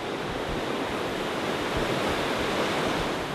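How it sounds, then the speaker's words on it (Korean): A dense, continuous rush of flowing water near the Dead Sea in Israel, swollen by rainy-season rain, fills the clip, loud and steady with no pauses or voices. "보세요. 물소리 들리기 시작하죠."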